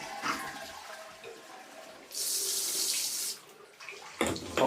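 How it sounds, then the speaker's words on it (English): Hot water runs from a tap during plumbing work, a steady hiss that rises into a louder, bright gush for about a second in the middle, then drops back, with some clatter near the end. "Still got water coming out"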